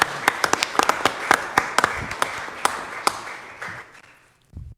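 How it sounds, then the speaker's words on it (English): Scattered clapping at a city council meeting, a handful of distinct claps that thin out and fade over a few seconds, with a faint sound at the end. "if we could give them a round of applause for their accomplishment"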